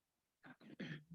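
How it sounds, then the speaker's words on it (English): One person clears their throat and coughs in a short, raspy burst of about three quick pulses, close and alone against quiet room sound. "Maybe that'll help my cough."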